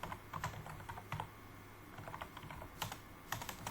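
Keys clatter on a computer keyboard as an IP address and subnet mask are entered during network configuration, a close, quiet, uneven run of sharp clicks with short pauses between bursts.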